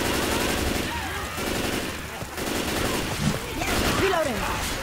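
Gunfire in the zombie shooter Infected City, a steady rattle of shots running through the whole stretch under game noise, with people talking over it.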